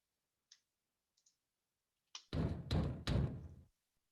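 A messenger knocks at a door during a staged reading of Shakespeare's Richard III: a few faint clicks, then three loud, close, heavy knocks in quick succession, with no voices over them.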